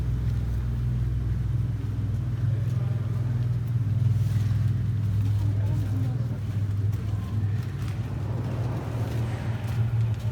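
A classic car engine idles in a barn, a steady low rumble running throughout with people talking over it nearby.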